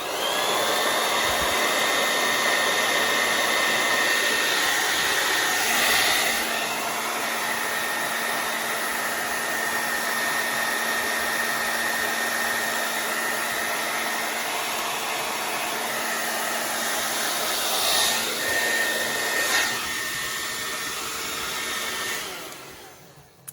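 A hair dryer blows steadily across alcohol ink on a bee block tile, a loud continuous whir with slight shifts as the airflow is angled, cutting off near the end.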